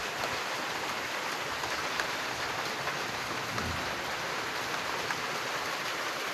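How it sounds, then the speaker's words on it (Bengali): Heavy rain pours down on a rooftop in a dense, steady hiss, loud and unbroken, with no voices heard. "ছাদে এসছি আর প্রচুর পরিমাণে বৃষ্টি পড়ছে"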